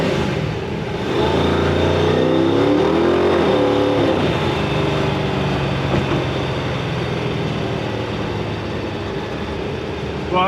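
A Hellcat car engine roars throughout a drive, with a loud, sustained drone that climbs in pitch as the car revs and accelerates, heard from inside the cabin with no talking.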